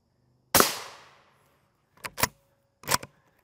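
A single M855 rifle round fired at an RMA Defense Model 1155 Level IV armor plate cracks out sharp and loud, then rings down over about a second, followed by a few quieter clicks and knocks.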